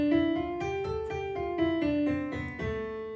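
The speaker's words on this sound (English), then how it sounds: "versus a minor scale," A minor scale played note by note on a keyboard-like pitched instrument, eight or so steady tones stepping in sequence with bright harmonics, close and clear with no talking.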